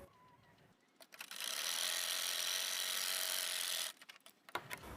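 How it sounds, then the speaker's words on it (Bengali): Sewing machine stitching a side pocket on a pair of pants, running in one steady continuous burst for a few seconds after quieter handling noises, fairly close and with no talk over it. "সেলাই করব।"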